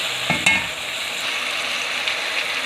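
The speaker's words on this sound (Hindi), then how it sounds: "अदरक लहसुन सौते हो चुका है और ये अब चले गए टमाटर" Tomatoes tipped into a pan of sautéed ginger and garlic for kachnar chicken, giving a brief burst of clatter followed by a steady, close sizzle and frying hiss with no talk.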